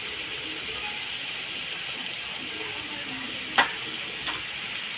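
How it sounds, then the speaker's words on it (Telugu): Masala frying in a pan for a country chicken curry, giving a steady, soft sizzle throughout with one sharp clink of a utensil partway through and a fainter tap afterwards. "దీంట్లో పచ్చివాసన పోయేంత వరకు ఫ్రై చేసుకోవాలి."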